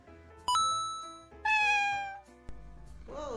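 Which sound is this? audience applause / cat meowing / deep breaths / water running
cat meowing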